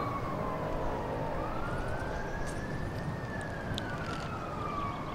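City traffic rumbles steadily while a police or emergency siren wails, its tone rising and falling above the road noise, fairly loud and continuous with no talking.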